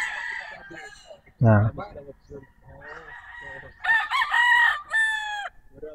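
Broodcock game roosters on a gamefarm crowing loudly and close, two long cock-a-doodle-doo calls plus a burst of clucking, with someone talking briefly between them.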